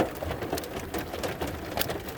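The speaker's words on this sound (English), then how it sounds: "there's definitely hail" Hail patters during a storm outdoors beside a lake, a dense, steady crackle of small impacts on nearby surfaces and gear, close and fairly quiet, with no voices.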